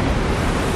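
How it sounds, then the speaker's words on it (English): Storm waves crashing at sea during a severe storm over offshore oil fields, a dense, steady roar of surf and wind with no break, loud and close throughout; no speech. "the waves are crashing in"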